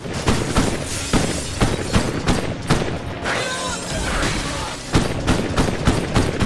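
Gunfire erupting in an elevator scene from the film Smokin' Aces: loud, dense bursts of repeated shots mixed with shattering impacts, packed close together and sustained across the whole stretch.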